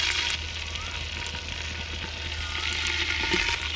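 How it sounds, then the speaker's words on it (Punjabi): Chicken leg pieces fry in cooking oil in a pot, giving a steady close sizzle and crackle with small pops, fairly quiet and uninterrupted by talk. "ਗੋਸ਼ਤ ਨੂੰ ਆਇਲ 'ਚ ਚੰਗੀ ਤਰ੍ਹਾਂ ਫਰਾਈ ਕਰਾਂਗੇ।"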